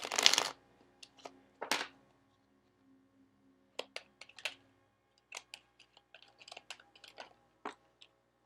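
Cards drawn and shuffled from an angel card deck, with a burst of riffling at the start followed by scattered soft taps and slides of card stock, close up and quiet.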